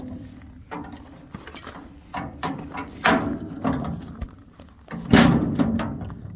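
The metal doors of a dump trailer swing shut after a repair, making several loud thunks and rattling clanks up close with uneven spacing between them.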